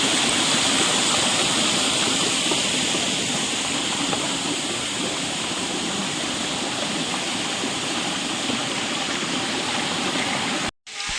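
Chakratirtha waterfall in Keonjhar, Odisha roars as a loud, steady wash of rushing water that continues without a break, heard up close with no talking.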